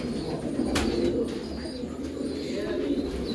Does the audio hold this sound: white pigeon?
yes